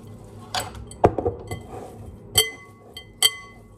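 Turkey mince and other ingredients are mixed in a bowl by hand, giving a few sparse, close clinks and light knocks of a utensil against the bowl in a quiet room.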